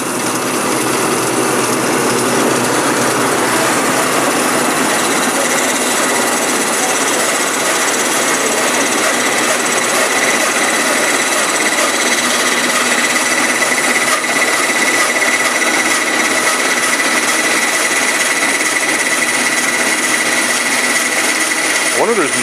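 A Model 2054 machine runs reversed, cutting through plastic totes, giving a steady, loud, dense grinding roar that holds without a break for the whole stretch.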